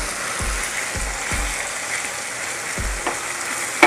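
Chopped tomato tipped into ginger-garlic paste frying in a pan for Maharashtrian vangyache bharit, giving a loud, steady sizzle with soft stirring knocks recurring every half second or so and a sharper clatter right at the end.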